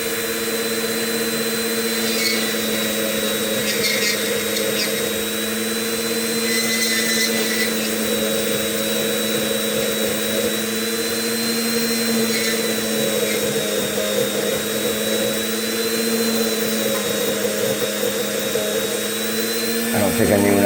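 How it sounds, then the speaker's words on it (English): A power tool whines at a steady, sustained pitch while serrating a lock pin, loud and close, running for the whole stretch with someone talking over it. "So let's serrate this one before we put it together."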